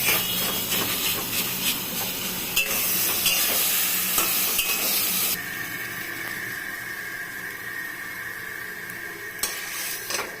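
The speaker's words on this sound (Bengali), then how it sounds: "এখন একটু নাড়াচাড়া করবো" A Bengali vegetarian taro leaf ghonto being stirred in a pan: steady sizzling hiss with scattered scraping clicks from the spoon, close and continuous, turning quieter partway through.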